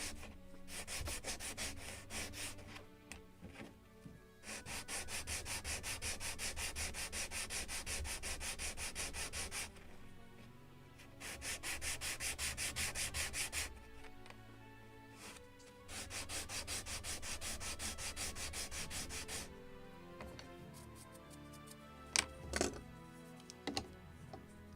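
Hand sanding of a small wooden knee for a model gunboat: repeated rhythmic bursts of rasping strokes separated by short pauses, close and fairly quiet, with no talk.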